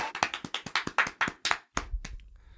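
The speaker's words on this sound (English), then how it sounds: "And then I put some applause in" A short burst of sparse, uneven hand claps, like a small group applauding, about a dozen distinct claps in quick succession that then stop, leaving a low rumble at the end.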